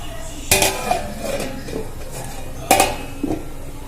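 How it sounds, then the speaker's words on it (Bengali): Metal lid set onto a cooking pot while making Bengali malai matar paneer in a village kitchen: two sharp clanks a couple of seconds apart, each followed by lighter clinks, over a low background. "আমি এটা ঢাকা দিয়ে কিছুক্ষণ হতে দেব।"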